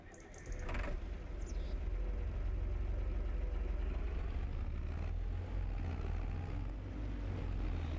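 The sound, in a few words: old tractor engine idling in video game Farming Simulator 25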